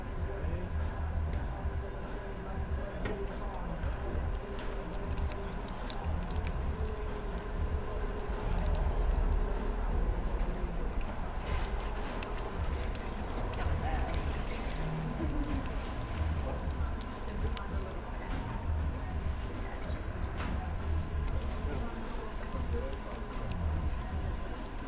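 Pottery wheels spin in a pottery class, a continuous low mechanical hum and rumble that runs steadily for the whole stretch in a room, with no talking.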